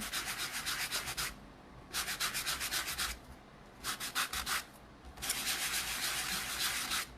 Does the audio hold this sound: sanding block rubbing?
yes